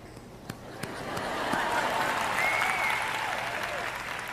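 A congregation applauds during a French-language sermon: a steady, broad wash of clapping swells and holds for several seconds, a few sharper claps standing out early, with no clear speech over it.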